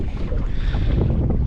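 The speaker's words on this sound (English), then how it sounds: "The wind is kicking. Y'all can probably hear that." Strong wind roars steadily across a fishing boat out on the water, a loud, continuous buffeting rumble with no voices.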